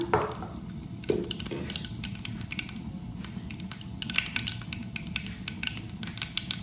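Dried red chilli dropped into hot oil crackles with quick, sharp pops over a low steady sizzle, close and continuous for several seconds.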